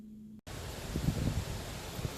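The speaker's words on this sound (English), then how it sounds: "hopefully this wind isn't a problem" Wind blows outdoors during gold panning with pay dirt, a steady broadband rush buffeting the microphone after a brief quiet start, with no one talking.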